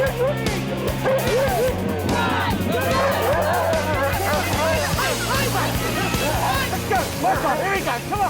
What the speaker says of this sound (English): The dogs were loving it!